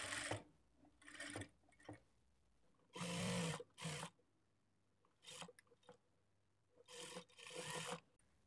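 A sewing machine stitches a fabric seam in short, faint bursts separated by quiet gaps, each run lasting under a second, with soft rubbing sounds between.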